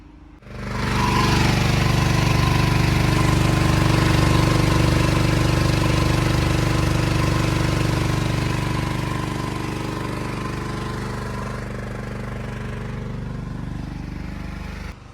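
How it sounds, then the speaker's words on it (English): A portable generator runs steadily while back-feeding a house, its engine a loud, close, continuous drone with a low hum that settles slightly quieter toward the end; no one speaks. "We'll go look at that generator again, see what our load is at."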